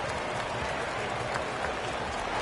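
A stadium crowd at a football game roars steadily through a punt return, a dense sustained wash of cheering and applause with no break.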